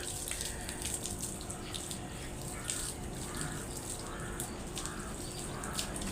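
Water runs steadily over an old plant's roots as they are washed, a continuous close splashing stream with crows cawing faintly in the background.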